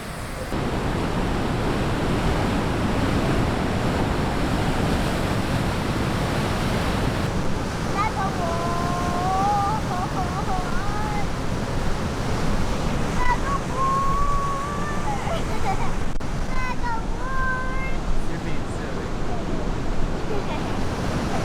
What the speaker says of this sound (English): Clara, what do you think of the waterfall?